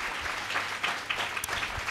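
A Telugu Sunday church service congregation bursts into lively, dense applause that carries on steadily for the whole moment, with scattered sharper claps standing out from the crowd.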